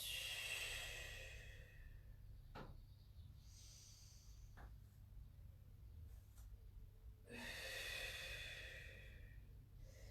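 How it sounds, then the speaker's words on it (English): Slow deep breaths during a Pilates session, drawn in through the nose and blown out through pursed lips, soft and close with airy exhales at the start and end and quieter inhales between. "we're taking nice deep breaths in through the nose"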